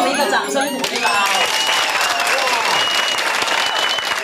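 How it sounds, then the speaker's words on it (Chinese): An audience at a hospital gathering of a breast cancer support group claps steadily for a sign-language dance troupe, a dense patter of many hands lasting several seconds. Voices talk over it. "好，给我们一个掌声鼓励吧"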